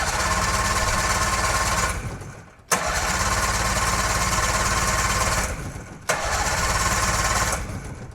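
A car engine cranks in three long bursts of rapid, loud chugging, with each attempt stopping abruptly and a brief pause before the next, and the engine never catches.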